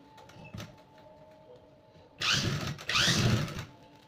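A sewing machine stitches a lehenga in two loud, close bursts of whirring, each running a little under a second, with quiet pauses on either side.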